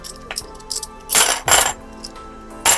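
Coins dropped one after another into a jar, giving several sharp metallic clinks and jingles in irregular bursts, close and loud with no talk.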